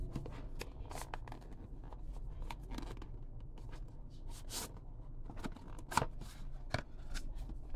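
Plastic wrapping is peeled and torn off a smartwatch box, giving quiet, close crinkling and rustling with scattered sharp crackles and scrapes in an irregular rhythm.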